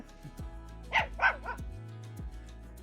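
A dog barks a few times in quick succession at close range at a dog show, short sharp yaps standing out over a quiet background.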